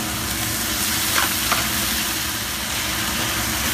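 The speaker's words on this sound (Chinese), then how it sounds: "一齊翻炒啦，將佢炒勻啦，翻炒勻啦。" Chicken leg mushrooms stir-fried with sauce in a wok, a loud, dense, steady sizzle with a couple of brief scraping clinks of the spatula, no voices.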